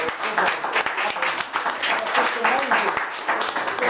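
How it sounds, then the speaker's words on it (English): An audience claps steadily while a voice talks over the applause, the clapping sustained and moderately loud across the whole stretch. "let's give a round of applause for that"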